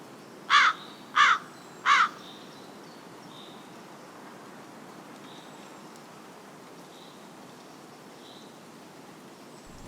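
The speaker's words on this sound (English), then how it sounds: "It was a crow." A crow calls three quick, loud caws near the start, then falls silent over quiet outdoor background with faint distant bird chirps.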